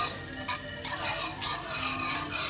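Fresh garlic is stirred around a pan with a steady scraping and mixing sound, a continuous fine crackle running underneath, close and moderately loud, with no voices.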